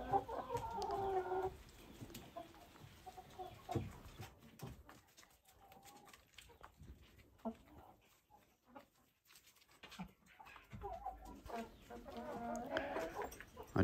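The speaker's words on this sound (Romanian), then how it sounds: "Aceștia sunt cocoșei de potârnichiu, amândoi." Partridge Wyandotte chickens and young roosters cluck in a coop, with bursts of calling at the start and end and quieter rustling between.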